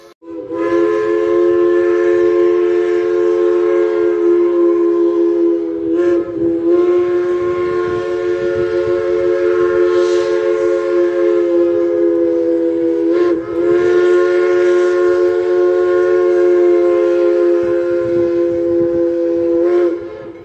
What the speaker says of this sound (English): The whistle, a Pennsylvania 3-chime, was used on all T1s that were operational during their time